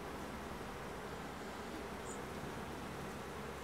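Honeybees swarm around an open beehive with exposed brood comb and stores, making a faint, steady hiss-like buzz that holds without a break and without any talk.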